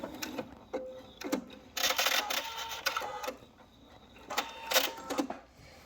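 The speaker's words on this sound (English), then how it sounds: "I'm going to do a little back stitch on it just to reinforce, and then take it right off the end" A sewing machine back stitches to reinforce the seam at the end of a small fabric flag, running in short close mechanical bursts of rapid stitching separated by brief pauses.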